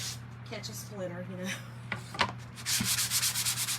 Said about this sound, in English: I'm just going to sand this just a little bit.